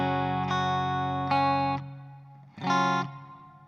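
Clean electric guitar through a JST Toneforge Misha Mansoor preset, sustained chords and notes with shimmering delay repeats and light reverb trailing after each strum, played alone.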